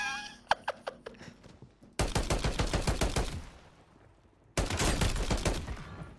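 Rapid bursts of gunfire in Call of Duty on Rebirth Island, starting with a few spaced shots, then two long, loud, close volleys of automatic fire separated by a fading pause.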